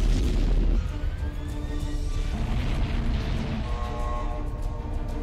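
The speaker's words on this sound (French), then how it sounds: "Impact torpille," A torpedo impact detonation in an action film about steel sharks: a heavy, loud boom opens the clip, then a sustained rumbling roar with tonal ringing, alarm-like whines and debris noise that carries on without speech.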